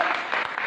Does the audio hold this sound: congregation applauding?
yes